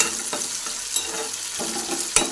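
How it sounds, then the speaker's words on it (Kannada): Tomato pieces fry in a pan with onion, a close, steady sizzle broken by a few sharp stirring scrapes, with no talk. "ಟೊಮೆಟೊ ಹಾಕಿ ಟೊಮೆಟೊನ ಸ್ವಲ್ಪ ಫ್ರೈ ಚೆನ್ನಾಗಿ ಆಗಬೇಕು"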